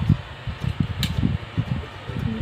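A 24-volt cooling fan in a Lakoni welding machine runs steadily nearby, its low whirring drone pulsing slightly in an even, continuous hum.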